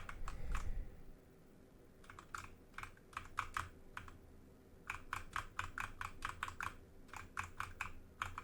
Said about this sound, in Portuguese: Agora ele está pedindo para a gente usar as setas do teclado para a gente poder chegar na escola.